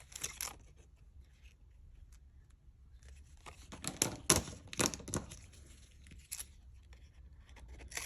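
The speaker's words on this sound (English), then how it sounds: "I think for children's scissors, they work pretty good" Quiet crisp snipping of small scissors cutting paper, with a few sharper cuts clustered in the middle and light rustling between them.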